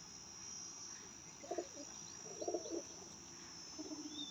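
Breeder pigeons in a pair coo softly in short low bursts, three brief phrases over a steady high insect drone, faint and somewhat distant, with no talking.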